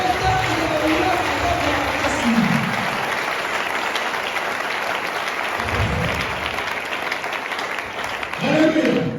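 A church congregation applauds the preacher with sustained steady clapping, loud and dense throughout, while the preacher's voice speaks over it in bursts.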